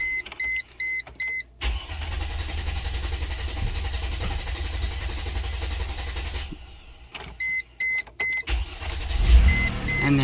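A 2001 Mercedes-Benz ML320 with an intermittent cranking fault. A few short chimes sound, then a loud cranking roar runs for several seconds, pauses, and cranks again before the engine catches.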